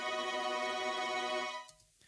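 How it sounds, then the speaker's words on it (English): Sustained tremolo string section in a pop song recording, a dense shimmering chord held steadily for nearly two seconds before cutting off abruptly into near silence. "And also some tremolo strings."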